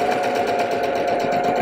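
A sewing machine runs a continuous satin stitch on a dress, sewing dots with shortening stitch length, a steady close mechanical hum with rapid needle pulsing throughout.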